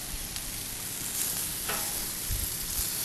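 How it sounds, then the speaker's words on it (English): Potatoes cook in a pan with a dense, continuous hiss of frying, loud and close and steady from start to finish, with a faint scrape or pop now and then. "potatoes are cooking up"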